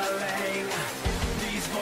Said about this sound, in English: Tetris has music that sounds like this.